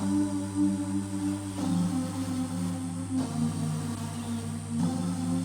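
Sustained synth chords built from root notes with added fifths, changing every second and a half or so, a warm droning progression with a steady low bass, moderately loud and uninterrupted.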